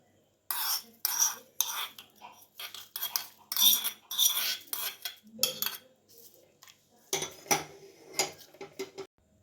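Hot oil tempering is poured into tomato chutney, then a metal spoon stirs and scrapes against the dish in a close, rapid series of clinks and taps with short pauses between bursts.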